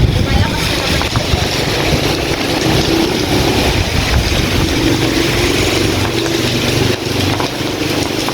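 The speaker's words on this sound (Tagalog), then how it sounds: "mahina yung ulan pero malakas na yung hangin" Strong wind gusting through a rural area beside rice fields during light rain, a loud, steady roar filling the whole stretch without break.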